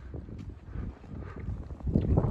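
Strong wind gusting across the snowy summit of Pilis-tető, a steady low roar that swells louder toward the end, with no voices.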